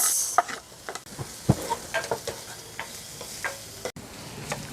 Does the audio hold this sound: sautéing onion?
yes